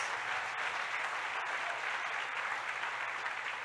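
A church audience applauds its team of pastors with dense, steady clapping that fills the room, sustained and even throughout with no voices above it.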